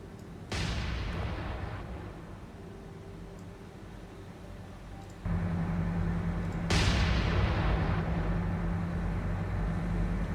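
Naval guns of the cruiser Portland fire in the War on the Sea video game, two sharp booming blasts a few seconds apart that roll into a sustained loud rumbling wash.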